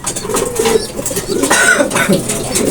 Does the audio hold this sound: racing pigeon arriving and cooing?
yes